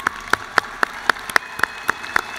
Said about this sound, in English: Let's applaud the education graduates.